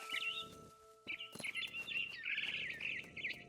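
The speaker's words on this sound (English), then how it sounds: "I tried to be quiet, but the bird was really scared." A frightened bird chirps and tweets repeatedly in What Remains of Edith Finch, bright rapid calls layered over a steady game ambience with a sharp flutter midway.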